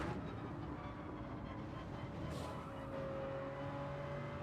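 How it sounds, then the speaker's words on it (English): A Viper race car's engine roars loudly and steadily in a racing video game, a dense sustained drone with rumbling low end that holds throughout without pause. "Probably killing myself with loud engine noises around the outside of the Viper."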